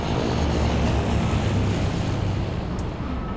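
A propeller airplane drones overhead in the Left 4 Dead zombie game, a steady low rumble that holds constant and loud for the whole moment, with no talking.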